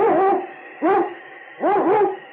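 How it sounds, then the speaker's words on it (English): A sled dog in a radio drama, a strong lead dog of the Northwest, gives three loud, close barks, each a short howling bark with silences between, and no talk over them. "Yukon King, swiftest and strongest lead dog of the Northwest"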